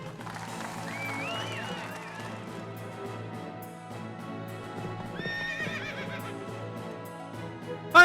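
Horses in the Fate/Grand Order race event neigh and whinny twice, loud and close, over steady clip-clop hoofbeats and background music.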